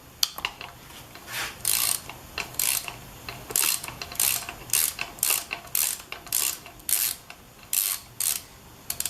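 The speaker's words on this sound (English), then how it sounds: "use a 1/2-inch socket on a swivel with an extension" A ratchet with a 1/2-inch swivel socket and extension working a carburetor nut on a Harley XLH 1000, giving close, crisp clicking bursts in repeated short strokes with brief pauses between.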